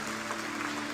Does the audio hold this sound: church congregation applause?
yes